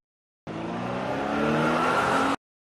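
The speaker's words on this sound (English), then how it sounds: "Sport car." A sports car drives past with squealing tires, a loud, close engine roar and tire screech that swells slightly and holds for about two seconds before cutting off, with no voices.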